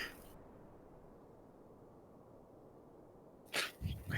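A sudden, loud sneeze bursts out close by near the end, after a long stretch of faint, steady background hiss.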